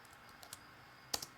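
A few soft, scattered keystrokes on a Dell laptop keyboard, close and quiet, with one sharper clack near the end.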